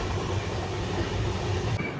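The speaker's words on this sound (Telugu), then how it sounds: "ట్రైన్ అయితే మంచి స్పీడే పోతుంది ఇక్కడ." Kirandul passenger train 58501 on the Visakhapatnam to Araku line, running at good speed. It makes a continuous loud rumble and rattle from inside the moving carriage, with no talking.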